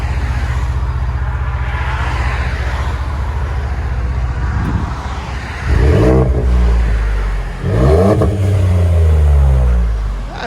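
A Ford F-150 with a 3.5L EcoBoost twin-turbo V6 and modified exhaust rumbles nearby. After a steady deep drone, it gives two strong revs that sweep up and fall back, loud and close.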